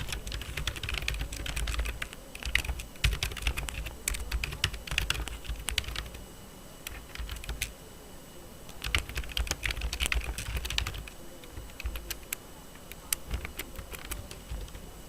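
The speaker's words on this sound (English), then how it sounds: "we can type in something like this" Typing on a computer keyboard, close clusters of quick clicky keystrokes in bursts separated by brief pauses, fairly quiet overall.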